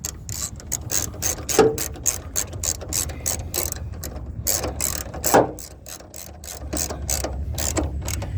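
A hand ratchet tightens a 10mm plastic nut on a 2007 second-generation Mini Cooper during a battery replacement, giving repeated rapid clicking bursts close up between pauses, with no voices.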